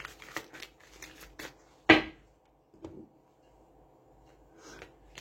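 A deck of tarot cards is cut by hand, with soft card rustles and shuffling, then one sharp slap of cards set down, followed by a few faint taps in a quiet room.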